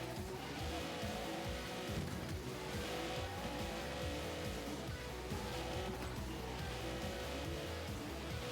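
A racing video game car engine roars with tire noise as the car spins out, a continuous loud, dense rumble with skidding texture and no talking.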